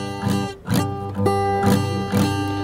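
Guitar chord strummed repeatedly with strings deadened by misplaced fingers, giving several dull, choked strums in a loose rhythm, close and alone.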